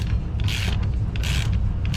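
Ratcheting wrench working on parts of a York fan coil unit that leaks water, repeated clicking strokes in quick bursts over a low mechanical hum, close by with no talking.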